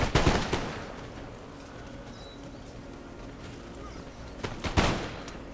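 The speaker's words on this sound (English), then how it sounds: "they're getting shot on the flank" Massed musket volleys in Empire Total War, dense crackling bursts at the start and again near the end, with scattered distant shots and battlefield rumble in between.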